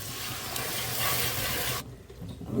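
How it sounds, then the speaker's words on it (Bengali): A pan of Bengali prawn curry hisses and bubbles as reserved hot boiling water goes in with stirring, loud and close, then the sound drops away sharply near the end. "সিদ্ধ করে যে জলটা রেখেছিলাম সেই জলটা আমি এখন দিয়ে দিই।"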